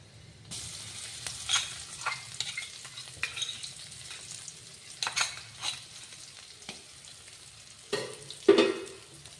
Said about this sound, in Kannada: ಸ್ವಲ್ಪ ಫ್ರೈ ಮಾಡ್ಕೊಳ್ಳೋಣ ಎಣ್ಣೆ ಒಳಗೆ